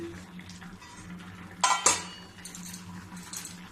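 Tomatoes stirred in a metal pot in a home kitchen, with a soft scraping clatter of utensil against the pot and two brief louder clanks midway over a quiet background.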